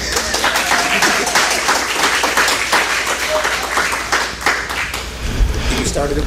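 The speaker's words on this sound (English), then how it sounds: "I don't know if you're clapping for me or clapping that we're getting started." Audience applause at an American Legion meet-and-greet for state office candidates, a dense, steady wash of clapping filling the room for several seconds, with cheers or voices mixed in.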